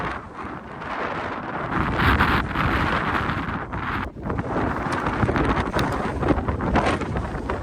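Strong gusts buffet the microphone on the north ridge of Capitol Peak, a loud, continuous roar with brief dips, heard up close without talk.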